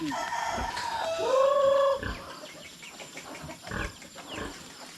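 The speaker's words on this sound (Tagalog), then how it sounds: "Hindi pa naman po napapatukahay itong ating mga manok." Chickens clucking with a rooster crowing nearby at a rural Filipino coop, several overlapping calls and a clear crow in the first two seconds, then scattered clucks fading out.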